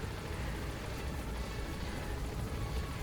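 A helicopter sets down in Metal Gear Solid V, a steady, dense rotor-and-engine roar with heavy low rumble, loud and unbroken throughout.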